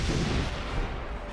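An M777 howitzer firing during training, a dense booming roar with broad rumbling blast noise that fills the moment and slowly rolls off, loud and with no talk.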